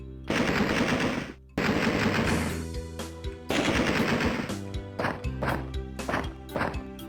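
Rapid bursts of pistol gunfire in the video game Alone in the Dark 2, sharp repeated shots in several clusters with brief gaps, loud and close, some echoing tails.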